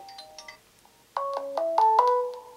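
A ringtone sample plays from a Motorola Moto E phone: a brief quiet melodic phrase, a pause, then a louder run of stepped electronic tones, close and clear with no talking.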